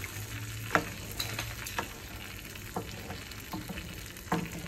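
Eggs frying in a pan while being stirred, a quiet steady sizzle broken by repeated light spatula scrapes and taps against the pan.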